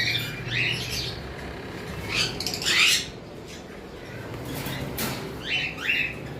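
Pet cockatiels and lovebirds kept for sale give repeated shrill squawks and chirps, several bursts clustered over a steady low background hum, fairly close and moderately loud, with no talking.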